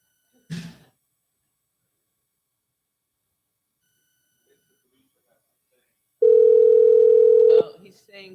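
A steady telephone line tone sounds on a call that goes unanswered, holding for about a second and a half after a brief voice, then cutting off abruptly.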